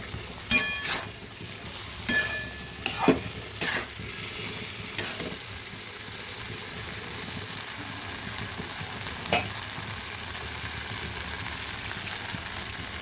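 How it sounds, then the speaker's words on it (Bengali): Cashews and melon seeds are stirred in a hot kadai, giving a soft continuous sizzle with scattered scraping clinks of the spatula, busier early on and then settling into a low steady fry. "একটু সতর্ক থাকতে হবে, কারণ কাজু, চারমগজ এগুলো চট করে কড়াইতে লেগে যায়। সেই জন্য হালকা আছে একটু নেড়ে নেড়ে দিচ্ছি।"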